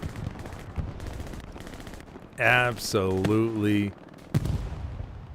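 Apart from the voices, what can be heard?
gunfire hitting a Panzer IV tank in video game Hell Let Loose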